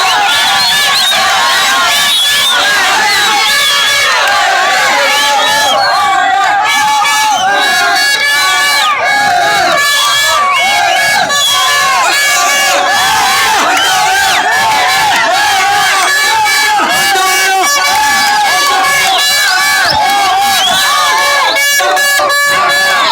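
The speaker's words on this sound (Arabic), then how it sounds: "من كثر صوت الشغب وشغب الجماهير" Rowdy football crowd at a match between Al-Majd and Al-Wahda, a dense wall of cheering, chanting and shouting that stays loud and continuous throughout, with whistles and horn-like cries rising above the roar.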